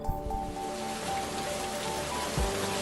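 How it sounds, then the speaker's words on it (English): Rain patters steadily as a soft, continuous hiss with faint scattered drops, fairly quiet and close, while a thin sustained tone hums underneath throughout. "It's raining."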